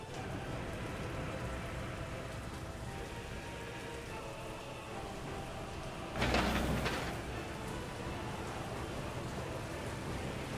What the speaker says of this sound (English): Hey, look, rain.